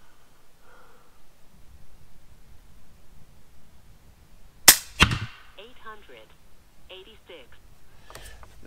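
An FX Impact air rifle fires a 20-grain H&N slug into a clay block. A sharp, close crack is followed a split second later by a second snap, with a quiet background before and faint sounds after.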